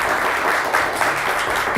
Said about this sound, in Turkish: Hadi bir alkış daha